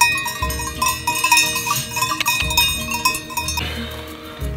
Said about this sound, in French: ton berger t'a acheté une belle cloche toute neuve